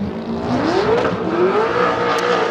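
A Chevrolet Corvette drift car with a Lingenfelter Performance build, running on Achilles tires, revs hard on track during Formula Drift qualifying in Orlando. The engine note is loud and close, rising and falling in one continuous surge.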